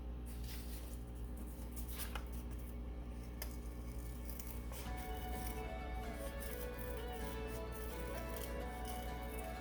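Scissors snip through a scrap of paper during collage work, producing a few faint, sparse clicks over a steady low room hum.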